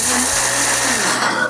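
A grinder mills roasted cacao beans, darkly toasted for Italian-style chocolate, into a loud, steady whir close by that shifts slightly in pitch as the load changes.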